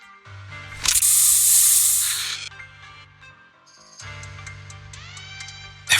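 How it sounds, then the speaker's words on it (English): A Bangboo spray canister in Zenless Zone Zero releases a loud, sustained hissing blast lasting over a second over a low musical drone, then fades as the game score continues with bright synth tones. "Here, have a taste of this special Bangboo spray."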